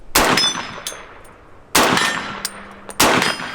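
Three loud, sharp M1 Carbine rifle shots ring out at intervals of over a second, each a crisp crack with a short metallic echo trailing off.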